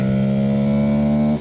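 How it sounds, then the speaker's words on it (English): A bone-stock Touareg adventure motorcycle with unmodified exhaust holds a steady, buzzing high-revving drone under hard throttle on a road for a moment, then cuts off abruptly. "I just want you guys to be able to hear what the Touareg sounds like when you're just honking"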